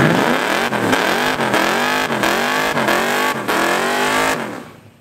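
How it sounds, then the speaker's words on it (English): Naturally aspirated V8 Ford Escort drag car on nitrous at an airfield drag strip, loud and close, revving hard through about six rapid upshifts with sharp rising sweeps between each, then cutting off abruptly and dropping away at the end. "Aspirated V8 Escort on nitros"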